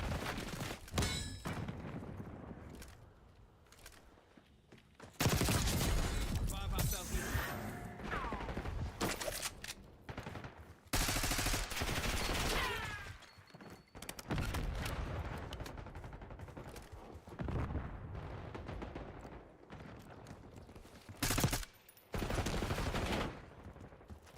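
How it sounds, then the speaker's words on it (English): Gunfire from shooting at vans in Black Ops 6, heard as loud, broadband bursts of rapid automatic fire that recur every several seconds over a busy, low game ambience. "Got Broski out here shooting vans."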